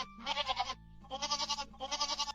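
Cartoon young goats bleat loudly in three bursts of rapid, wavering cries, with short pauses between them and no talking.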